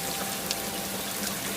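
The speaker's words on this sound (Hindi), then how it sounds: "एक दिन जंगल में जोरदार बारिश हुई।" Heavy rain in a forest as a cartoon sound effect, a dense, steady hiss of downpour with scattered droplet patters, loud and continuous throughout without any voices.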